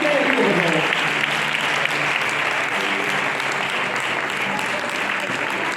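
A church congregation standing to clap for the Lord, dense sustained applause filling the room at steady strength throughout.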